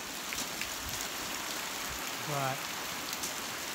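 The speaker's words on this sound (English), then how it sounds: "I'll step out here in the rain a little bit." Steady rain patters on the ground outside a house with a corner triangle roof connector, a continuous soft hiss with a brief spoken word partway through.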